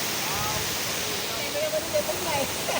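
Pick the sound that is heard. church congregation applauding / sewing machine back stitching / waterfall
waterfall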